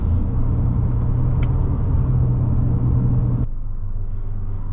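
A 2022 Toyota Corolla Cross engine floored while climbing uphill gives a loud, steady, close rumble that drops off sharply near the end, with no talking.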